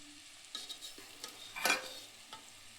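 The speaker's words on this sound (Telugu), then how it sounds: "తర్వాత రెడీ చేసుకున్నటువంటి టమాటా చింతపండు ప్యూరీని ఇందులో యాడ్ చేయాలి ఫ్రెండ్స్, పోసుకోవాలి." Tomato and tamarind puree poured into a hot pan, giving a burst of hissing sizzle that swells and fades over a couple of seconds, close and moderately loud.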